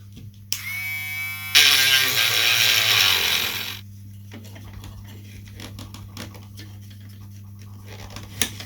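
A rotary tool with a cutting disc slices carbon on a bobber motorcycle build, a high-pitched whine with a harsh grinding burst for a few seconds, close and loud over a steady low hum, then quieter scraping and ticks.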